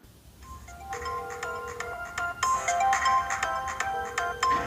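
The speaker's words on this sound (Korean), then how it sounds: "이게 이제 기본 벨소리입니다" Default ringtone on an LG smartphone plays alone, a bright synthesized melody of repeating chime-like notes that grows louder after the opening bars.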